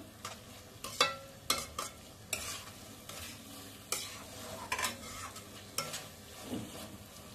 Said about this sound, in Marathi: छान परतवून घ्यायचंय 1 मिनिट फुल फ्लेमवर